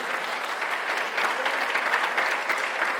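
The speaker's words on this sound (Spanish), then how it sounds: "Un aplauso al Señor." A church congregation applauds during a worship service, steady, dense clapping from many hands filling the room evenly for a few seconds with no voices on top.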